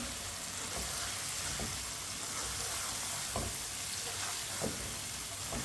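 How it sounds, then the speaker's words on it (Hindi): Fried potatoes and cauliflower being stirred into a sabzi in a pan, a steady broadband sizzle with a few soft scraping strokes of the spoon every second or so, close and alone. "फ्राई की हुई आलू और गोभी डाल लेंगे। अच्छी तरह मिक्स कर लेंगे।"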